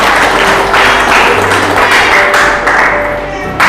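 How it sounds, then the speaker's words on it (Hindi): A church congregation claps together in praise, a dense, steady patter of many hands that carries on without a break for the whole stretch and sounds close and loud. "ताली बजा कर प्रभु की महिमा करें"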